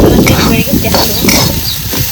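Vaghati bhaji is stirred in a pan with a little oil, close and loud, with repeated scraping strokes in an uneven rhythm over a soft sizzle.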